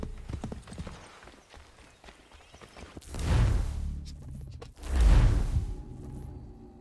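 Heavy horse hooves thud in two loud galloping bursts in Assassin's Creed 3, over a busy background of game ambience and faint murmuring.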